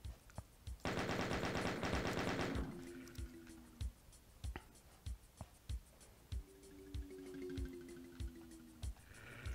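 Enemy gunfire in the video game Doom 2 opens with a loud sustained burst of rapid automatic shots, followed by a run of single sharp reports spaced through the rest, with occasional electronic tones between them.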